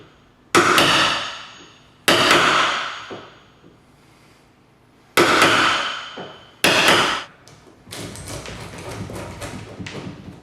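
A hammer taps a chisel to cut a hinge recess in a wooden slab door, four loud, separate, ringing strikes spaced a second or two apart, then a stretch of softer scraping.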